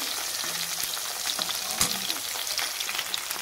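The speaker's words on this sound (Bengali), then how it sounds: "আমি 3টে করেই মাছ আমি ভেজে নেব।" Bhola fish frying in hot oil, a few pieces at a time, giving a steady close sizzle with small crackles and pops throughout.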